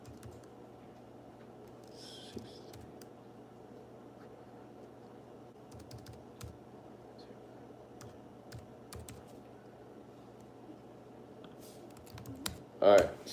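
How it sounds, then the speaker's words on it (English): Someone types a code on a computer keyboard, producing faint, scattered key clicks over a steady low background hum, with a louder burst near the end. "I'm typing in my Switch code right now"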